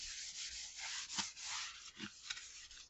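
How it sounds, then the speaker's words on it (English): Steady, close scrubbing rubs over kitchen wall tiles as grime is worked off, a continuous abrasive swishing with slight strokes and pulses throughout and no voices. "Just start scrubbing, and you are just wiping it off."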